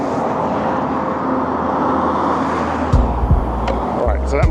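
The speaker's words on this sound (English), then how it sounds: "the convoy arrives. An incredible mix of 911s, Caymans, Boxsters and Cayennes cruising past" A convoy of Porsches, including 911s, Caymans, Boxsters and Cayennes, cruises past on a road with a steady engine and tyre drone, then sharper, louder passes near the end.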